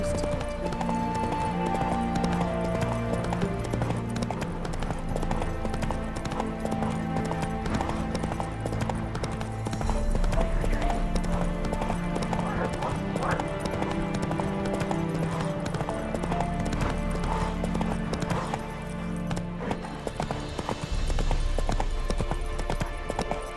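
Horse hooves clip-clop steadily at a gallop in The Witcher 3, loud and continuous over game music, with occasional snorts and brief spoken lines from characters.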